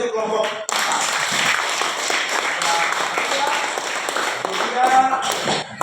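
Schoolchildren in an Indonesian primary classroom clap together for a student group, a brisk burst of applause that sustains for several seconds, with a voice speaking briefly at the start.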